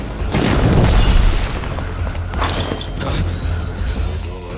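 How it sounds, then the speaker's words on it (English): Grenades explode in an anime action scene: a loud, heavy boom rolls out first, followed by further rumbling bursts and a bright crackling debris burst, close and forceful with no voices. "More grenades! They're endless!"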